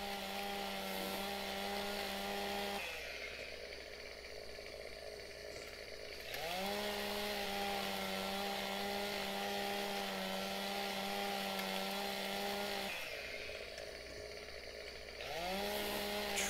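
Chainsaw in Farming Simulator 17 trimming trees, its engine revving high under load, dropping to a lower idle for a few seconds, then surging again, loud and continuous.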